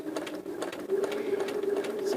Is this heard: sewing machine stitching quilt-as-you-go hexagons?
yes